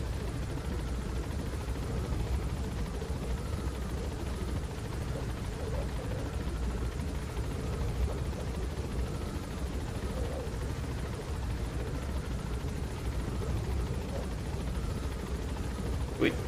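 A helicopter in Metal Gear Solid 5 drones steadily throughout with a constant rotor hum at moderate level, no clear speech over it.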